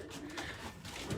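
Racing pigeons in a race loft giving soft, low cooing calls amid a busy, reverberant background murmur, faint and brief.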